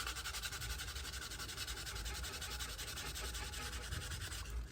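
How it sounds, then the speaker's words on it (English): Sandpaper rubbing steadily over a copper part of a tube cutter during restoration, a close, continuous gritty scratching with fast even strokes and no talk. "Maybe the sandpaper do better."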